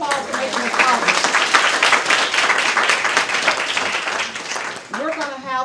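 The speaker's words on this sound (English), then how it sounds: "Let's give them a round of applause for making this possible." Crowd applause at a gathering, loud and dense clapping from many people, with a voice speaking at the start and again as the clapping fades near the end.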